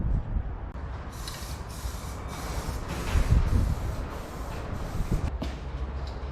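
Aerosol spray can hissing in bursts during work on a Land Rover Defender roof tent setup, with a steady broadband hiss over outdoor rumble and several short spray pulses.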